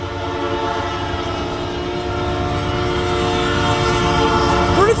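A brand-new CN AC44C6M locomotive leads a northbound general freight train at Ladysmith, Wisconsin, sounding a loud sustained chord horn with Nathan P3 bells of tone over the rumble of the passing engine, growing slightly louder.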